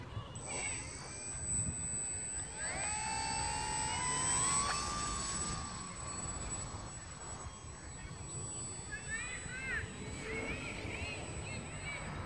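An RC Factory MXS-C model airplane flies overhead with a thin electric whine that rises and falls as it passes, faint against outdoor wind noise; people talk quietly nearby.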